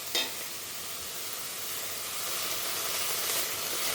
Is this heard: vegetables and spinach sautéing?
yes